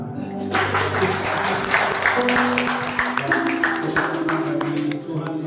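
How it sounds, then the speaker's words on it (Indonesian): Congregation clapping at a Christmas service in a church, a dense spread of hand claps that rises in and holds steady for several seconds, with a faint voice or music tone underneath. "Tepuk tangan."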